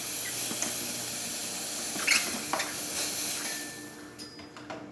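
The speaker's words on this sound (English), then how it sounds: "Nice strong steam." A Grimac espresso machine's steam wand releases a strong, steady hiss at close range, with a few brief bursts and a thin whistling tone toward the end.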